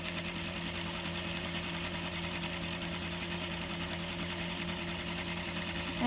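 Sewing machine stitching straight down an invisible zipper, running a continuous close, loud mechanical whir with a fast steady needle rhythm from start to finish.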